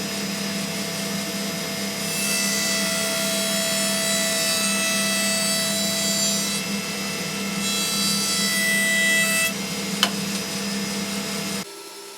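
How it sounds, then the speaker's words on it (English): A Carbatec jointer with a spiral cutter head runs with a steady motor whine and planes a board in two smooth passes of bright shearing noise, loud and close, then spins down. "The cut quality from the spiral cutter head is so smooth and it felt effortless compared to my old jointer."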